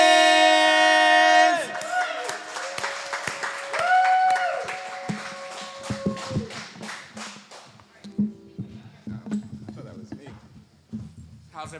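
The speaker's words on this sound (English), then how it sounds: "So can we please give a round of applause to Vince?" Scattered clapping and cheering from a small open mic audience in a coffeehouse, welcoming a saxophone player named Vince, breaking out right after a brief sustained musical tone and gradually thinning out.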